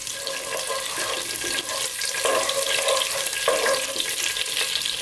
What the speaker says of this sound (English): we're going to get our fennel seeds in. And we're just going to give them a few seconds to infuse that oil.